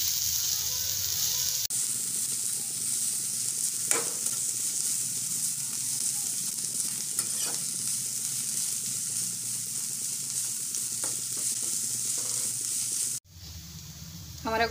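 Cabbage for momos, cooked with ginger, frying in a pan with a steady, close hiss of sizzling that runs almost unbroken, with a few faint clinks and a brief cut near the end.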